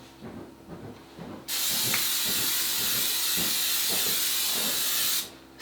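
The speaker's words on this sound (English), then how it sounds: "Spray your pan." Cooking spray hisses steadily from a can onto a cake pan for about four seconds, loud and close, after a few soft handling knocks; the pan is being greased for a marbled cake.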